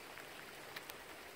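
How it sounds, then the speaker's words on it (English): Heavy rain pours down in the early morning before dawn, a faint, continuous hiss of drops with a couple of slightly louder taps, no voices. "It is 5:20 a.m. and it is raining like crazy."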